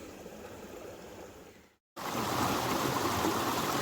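Water rushes steadily down a stream at the base of a waterfall, past a gold-prospecting sluice weighed down with a big rock, a continuous broadband wash that briefly drops out before returning louder and fuller.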